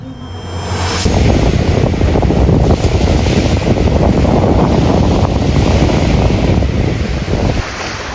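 Surf and strong wind on a beach at Koh Samui, Thailand, a loud, steady roar of waves with heavy wind buffeting the microphone, no voices.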